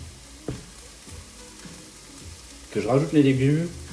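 Sugar and sesame oil fry in a pan with a soft, steady sizzle, broken by a couple of knocks of a utensil, and then a person starts talking over the frying.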